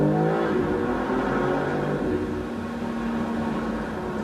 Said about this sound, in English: you can just feel that acceleration out of a corner